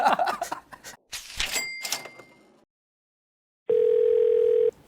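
A telephone line tone for a call about to be answered sounds once as a single steady, loud electronic tone lasting about a second. It comes after a stretch of people talking and a short silence.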